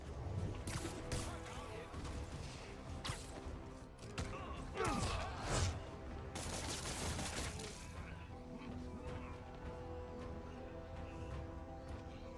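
Enemy homing rockets firing in the Marvel's Spider-Man video game: a dense run of whooshing launches and sharp bursting impacts with crashes, loud through the first two-thirds, then a steadier rumbling game background.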